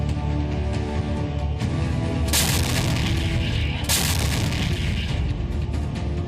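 An M777 howitzer fires two powerful blasts a second or so apart, each a loud, sharp, broad burst of noise over a continuous heavy rumble.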